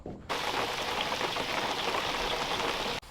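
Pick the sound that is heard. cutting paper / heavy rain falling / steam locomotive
heavy rain falling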